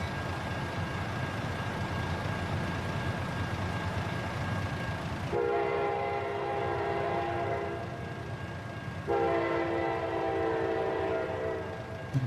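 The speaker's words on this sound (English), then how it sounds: "It's a lot of wagons on that train." A long freight train with many wagons rolls by in American Truck Simulator under a constant rumble, and its horn sounds two long, loud blasts, with a gap between them.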